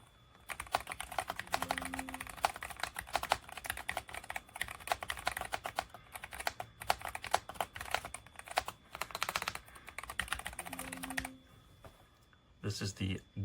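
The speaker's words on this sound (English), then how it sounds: "I'm just going to type." Steady, fast typing rattles on a SteelSeries Apex Pro Gen 3 keyboard with OmniPoint 3.0 HyperMagnetic switches, a dense run of close key clicks. A voice talks briefly near the end as the typing stops.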